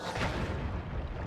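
Video game explosion heard as a brief, dense, rumbling boom with broadband crackle, loud and close, lasting about a second with no talking.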